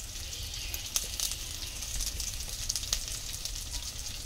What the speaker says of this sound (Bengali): ইলিশ মাছ রান্না করতেছি।